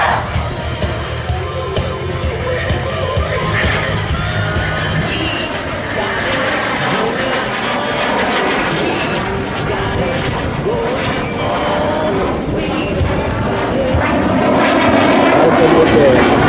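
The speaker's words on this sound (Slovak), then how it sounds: "Práve vidíte ukážku vynikajúcej manevrovateľnosti pri minimálnej rýchlosti lietadla Typhoon." A Eurofighter Typhoon jet roars continuously overhead at an air show, its engine noise rising and shifting as it maneuvers at minimum speed, with someone talking over it throughout.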